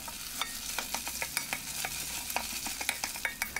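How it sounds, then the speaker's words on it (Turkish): Tomato paste, onion and garlic sizzle in a hot pan as a spoon stirs and scrapes with repeated quick clicks, close up and steady. "Kavrulmuş olan soğan ve sarımsağın içerisine bir tatlı kaşığı domates salçası da ekliyorum arkadaşlar."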